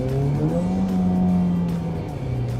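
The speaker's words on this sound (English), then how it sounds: "I hit the gas and it goes." A Jeep Renegade accelerates, its engine note rising steadily from inside the cabin as a loud, continuous drone under faint road noise.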